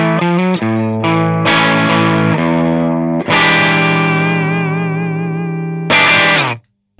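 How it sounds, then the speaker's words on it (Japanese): An electric guitar runs through the clean channel of a Bogner amp with no effects pedals, playing loud, ringing sustained notes and chords that shift every second or two before cutting off abruptly at the end. "ボグナーのクリーンで、エフェクターは何もかかってなくて"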